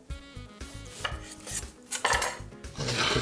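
A knife slices through Canadian bacon on a board, giving a run of short, close cutting strokes with light dish and utensil clatter in a steady rhythm that grows busier toward the end.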